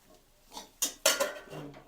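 Okra goes into a pan on the stove and a lid is set on it: a few quick metallic clinks and clatters, close and moderately loud, over a short moment.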